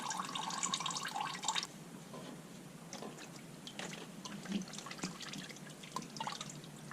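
Used engine oil draining out of a Jeep Cherokee during an oil change, a steady trickling pour that is faint and continuous, with small drips and light splashes throughout.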